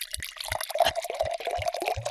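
Water poured from a jug to top up a cup, a short steady trickle with bubbling and small splashes, close and clear with no talk.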